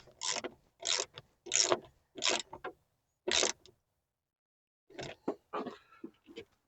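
Ratchet strap clamp on a Gator SRX soft roll-up tonneau cover being cranked tight, several bursts of close, loud clicking with short pauses between, then a quieter run of ratchet clicks near the end.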